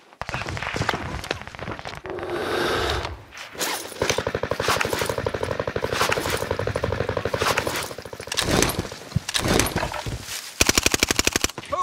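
Rapid automatic gunfire in Call of Duty: Warzone Pacific, with loud close bursts of fast, evenly spaced shots, a brief lull near three seconds, then long sustained volleys and a sharp final burst.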